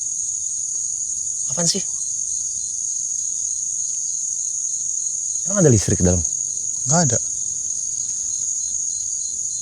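A steady, shrill insect trill, cricket-like, drones without a break at an old European-style former villa, while a few short bursts of speech cut in over it.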